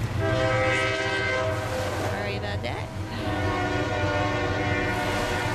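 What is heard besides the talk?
passing train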